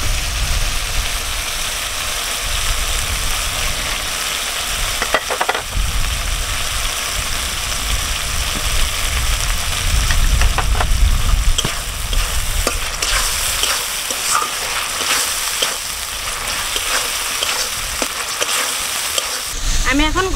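Spice paste sizzles steadily in a pan over low heat as it is sautéed and stirred, with intermittent scraping strokes over a continuous frying hiss and no talking.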